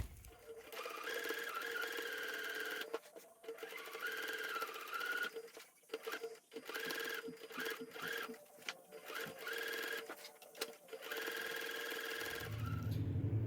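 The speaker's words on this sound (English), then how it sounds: "we're going to go and start sewing" A sewing machine stitches upholstery for a Barwa lounger restoration, running in steady mechanical bursts with brief pauses between runs, close and fairly loud, no voices.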